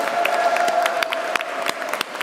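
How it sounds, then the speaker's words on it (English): A large audience at a postgraduate graduation ceremony claps in sustained applause, a dense steady patter of many hands with a few sharper individual claps, no voices standing out. "I want you to acknowledge and give a big round of applause and thank all your family and friends."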